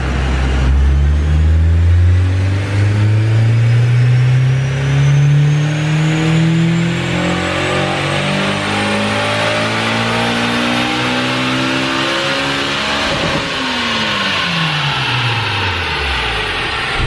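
A Honda S2000 with an AP1 cam swap revs hard on a dyno, the engine climbing steadily through the gears to a high scream before the revs drop sharply and wind down, loud and close with no talking.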